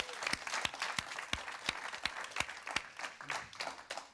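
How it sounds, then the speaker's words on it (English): Audience in a church service giving a round of applause, with rhythmic, evenly paced claps standing out clearly above a steady patter of clapping at moderate volume, and no talk. "Let's give him another round of applause."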